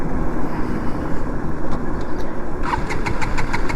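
A KTM Duke 200 motorcycle engine sputters and turns over without catching, a rough mechanical churn with faint knocking ticks, close and fairly loud with no voices.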